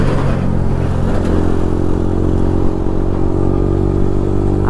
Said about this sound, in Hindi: अभी अभी आपके सामने बहुत ही तगड़ा मिस मारा है बाइक ने